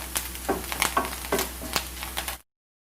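Chopped ginger fries in a pan for a Kerala-style sadya ginger curry, giving a soft, steady sizzle with several brief stirring scrapes before it cuts to silence.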